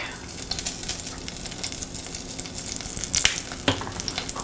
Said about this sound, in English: I kind of just want this to sizzle a little bit for a few seconds just to bring out a little bit more of a nutty flavor from the spices